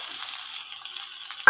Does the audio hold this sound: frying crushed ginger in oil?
yes